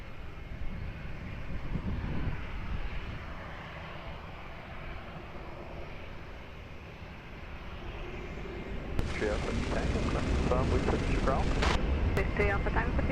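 An airliner takes off from runway 20 at Lisbon Airport, a loud broadband engine roar that swells sharply partway through as thrust builds, with a rising whine above a steady rumble.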